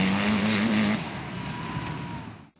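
Race cars at the 65th Saint-Ursanne-les-Rangiers hill climb, a loud engine roaring close by with a sustained high-revving pitch that drops and fades as the car moves away, ending abruptly.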